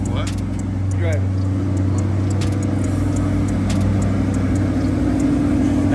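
Corvette C8 engine running steadily close by, a low rumbling drone holding through the whole stretch with little change in pitch, plus faint rattles and clicks on top.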